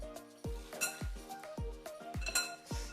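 Chicken and onion pieces tossed together in a bowl, with repeated clinks and knocks of a utensil against the dish in a steady rhythm, close and fairly loud.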